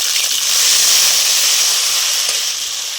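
Potatoes frying in hot oil along with moong dal, giving a steady, fairly loud hissing sizzle that holds evenly throughout with no talking.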